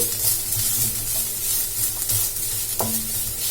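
Grated coconut being stirred through melted ghee in a pan, with a steady close sizzle and frying hiss alongside repeated scraping strokes of the spoon, no talking.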